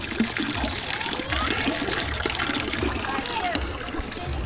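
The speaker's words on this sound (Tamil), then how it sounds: "பார்த்தீங்களா தண்ணி வருது" Water flows and trickles near a small Buddha statue at a site in China, a steady splashing wash with a voice talking over it.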